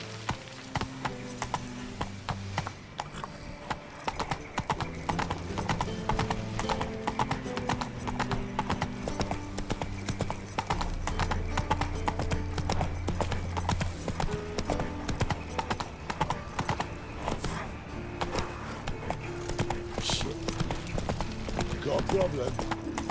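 A horse gallops in The Witcher 3, with a fast, continuous drumming of hooves under game music and voices for the whole stretch.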